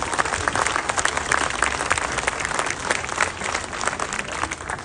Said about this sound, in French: je vous demande d'applaudir José Pastorelli